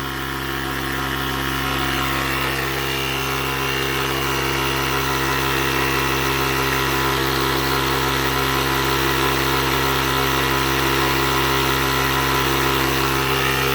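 A small portable electric tire inflator pumping a car tire drones steadily with a constant mechanical hum and buzz, loud and close, unchanging for the whole stretch.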